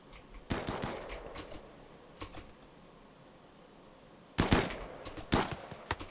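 Rapid bursts of automatic gunfire in a colony-simulation video game, fairly quiet, with clusters of shots at the start, a brief burst in the middle and another volley near the end.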